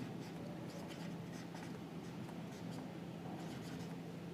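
Marker or chalk scratching across a classroom board during an accounting lesson, a steady run of short strokes over a low room hum with no talk.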